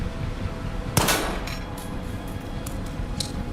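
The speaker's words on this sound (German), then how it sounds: "Ich muss aber schießen!" A single sharp gunshot goes off in the Stalker 2 shooter game. It is a loud, close crack, and fainter metallic clinks and small impacts follow it against a steady low ambient hum.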